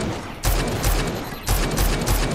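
Gunfire in the video game Rage 2: two loud, booming shots about a second apart, each followed by a crackling tail, close and alone.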